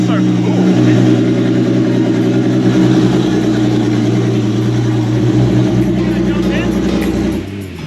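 Toyota Cressida street car with a 2JZ engine and 9-inch rear running loud and close, a dense throaty rumble held steady for several seconds with revs surging, voices talking over it.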